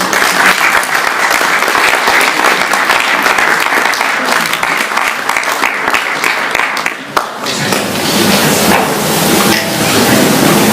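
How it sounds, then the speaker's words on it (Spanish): Loud, dense applause from a large crowd at a pastoral conference fills the whole clip, easing briefly near the middle before continuing strongly. "Lo recibimos con un fuerte aplauso"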